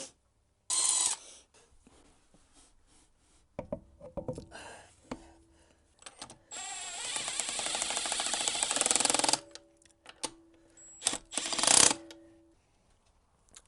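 Wheel and spacer going onto an Alfa Romeo Giulietta during a wide-arch test fit: scattered clanks and metallic clicks, then a sustained rattling ratchet-like run mid-clip, followed by a few more bumps and knocks nearby.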